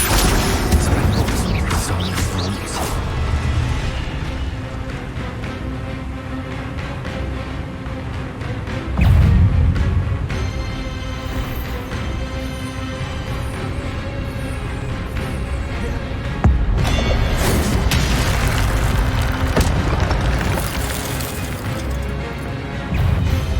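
Spell blasts in Hogwarts Legacy, a game with dense magical combat: repeated crashing bursts and booming impacts over a busy, continuous game soundscape, with heavier hits standing out at several points.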